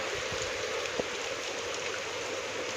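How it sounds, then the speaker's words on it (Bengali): Heavy rain pours beside a roadside cremation ground and temple, a steady dense wash of falling water with occasional nearby drips, fairly soft and uninterrupted, with no speech. "প্রচণ্ড জোরে বৃষ্টি হচ্ছে"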